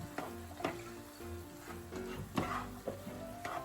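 Cooked rice is stirred into shrimp in a hot pan for a shrimp pilaf, with low sizzling under repeated spoon scrapes and clacks against the pan, close by.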